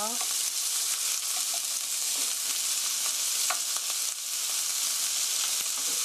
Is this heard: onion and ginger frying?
yes